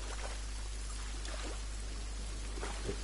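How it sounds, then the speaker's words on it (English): Rain pours steadily onto a fishing spot, a soft continuous wash with scattered drips and splashes under a constant low hum. "Wow, listen to that rain. That rain is pouring down."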